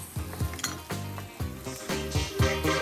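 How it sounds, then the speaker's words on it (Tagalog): Potatoes fry with garlic and onion, sizzling steadily in a hot pan while a utensil scrapes and stirs, clinking against the pan in an irregular rhythm. "Iprito-prito muna natin ang ating potatoes kasama ang bawang at sibuyas."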